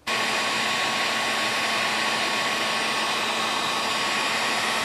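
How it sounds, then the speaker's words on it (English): A heat gun switches on and blows steadily while stripping paint and clear coat from a guitar body, a loud, constant close-up roar with no breaks or voices. "that's where I'm going to hit it with the heat gun"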